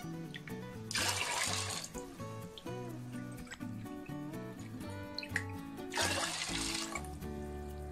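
Water is poured into a rice cooker over soaked corn grits and beans for porridge, two short splashing gushes over a steady background of melodic tones.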